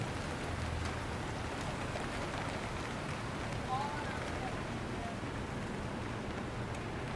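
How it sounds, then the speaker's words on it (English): Rain falling outdoors in a steady, soft patter, heard faintly at a distance as an even wash of drops with no break. "Y'all, it is raining."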